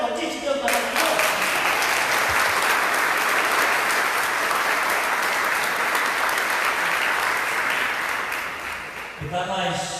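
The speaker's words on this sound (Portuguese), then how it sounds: "Você pode aplaudir de Deus maravilhoso?" A church congregation breaks into sustained, dense applause during a Sunday communion service, loud and steady for several seconds before tapering off at the end.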